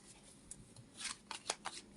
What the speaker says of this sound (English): asking it as I shuffle still